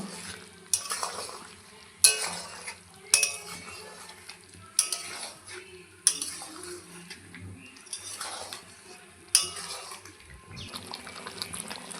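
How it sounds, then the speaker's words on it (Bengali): Chicken and potatoes stir-fried with spices in a pan, heard as a spoon or spatula repeatedly scraping and knocking against the metal over a low sizzle, the strokes coming in irregular bursts with no talking. "মশলার সঙ্গে মাংস আর আলু ভালো করে কষিয়ে নেব"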